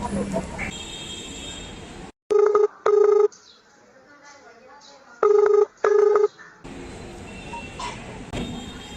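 A phone call being placed at night: a short burst of dialing tones, then two loud rings, a quiet gap and two more rings, with talk before and after.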